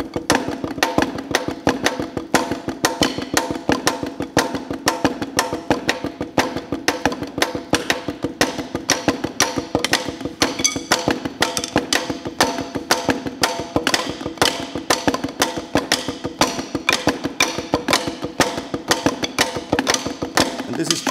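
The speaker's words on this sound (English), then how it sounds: "I want you to play dotted eighth notes with the right hand. I'll just play it quietly on the side of the drum." Quiet, steady dotted-eighth-note taps played with the right hand on the side of a drum, a dense rhythmic stream of light clicks running evenly throughout.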